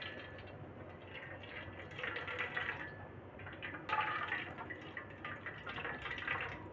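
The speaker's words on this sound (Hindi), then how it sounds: "इस तरह से इन्हें हमें निचोड़ निचोड़ के इनका पूरा पानी निकाल लेना है" Juice dripping and trickling as raw mango pulp is squeezed through muslin cloth, a steady close wet patter with brief louder surges, no talking.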